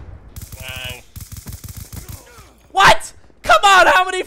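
Bursts of automatic gunfire in the Black Ops 2 video game, two loud dense volleys near the end, preceded by quieter game sounds and a voice talking.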